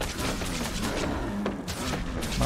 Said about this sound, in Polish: postać strzela aż tak szybko